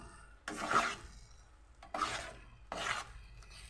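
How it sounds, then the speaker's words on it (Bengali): A spoon scrapes and stirs an egg bhorta mixture in a kadai, three distinct rasping strokes spaced about a second apart over faint background, close and moderately loud, no speech. "ডিমটা দেওয়ার পর একসঙ্গে এরকম করে আমরা নেড়ে নেব।"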